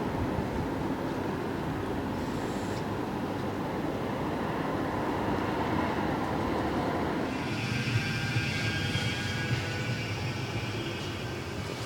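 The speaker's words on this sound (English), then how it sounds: "just a tram going there to Didsbury" A Manchester tram heads toward Didsbury as a steady mechanical rumble with rising electric whine and faint squealing, fairly loud and continuous throughout.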